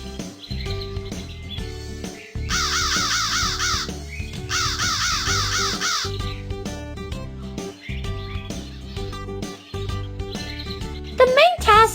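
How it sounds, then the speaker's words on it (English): In a Wizard of Oz video game, repeated crow caws in bursts over game music with a steady beat, alongside some chirping bird calls, with a voice speaking now and then. "She asked a fleet of crows to conquer our friends."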